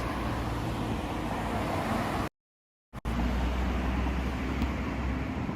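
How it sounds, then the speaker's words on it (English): Steady street traffic rumbles in Fukui, Japan, a constant broadband wash of passing vehicles with a brief dropout midway before the noise resumes at the same level. "Hopefully you can hear me with the rattle, the noise of the traffic behind."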